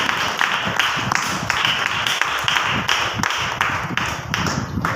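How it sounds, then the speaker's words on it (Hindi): A church congregation claps together in thanks during a Hindi worship service, a steady mass of hand claps with rhythmic accents, close and continuous throughout. "प्रभु के लिए धन्यवाद की ताली देंगे"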